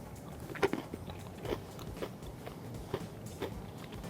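Someone bites and chews crunchy chaat topped with yogurt, beetroot and cilantro, giving quiet, close crunches and crackles at an uneven pace over low room noise.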